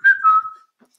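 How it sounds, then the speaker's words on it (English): A person whistles a short tune in a live setting, a bright melodic line with a slight flutter, loud at first and trailing off after about half a second, followed by faint scattered noises. "Fantastic whistle solo."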